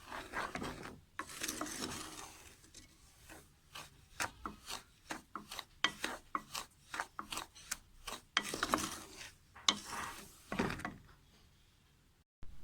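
Semolina is stirred and roasted in a pot over a low flame: a quiet, irregular series of scraping, rasping strokes as a spoon drags through the dry grains, with brief pauses between bursts and no talking.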